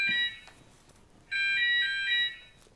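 An electronic alarm going off indoors in two bursts of rapid high-pitched beeping, separated by a gap of quiet room tone, moderately loud with no talk.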